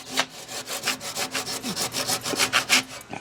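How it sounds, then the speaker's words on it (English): Hand saw cutting through wood for a joint shoulder by a carpenter, a steady series of rhythmic rasping strokes, close and fairly loud, with no talk. "I need to cut this shoulder out now actually."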